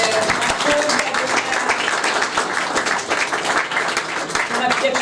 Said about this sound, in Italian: intanto un applauso